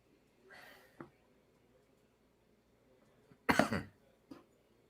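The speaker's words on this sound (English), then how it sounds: "Sorry about the cough, man." A single loud, harsh cough bursts out close to the mic after a soft breath, followed by a small throat-clearing rasp in a quiet room.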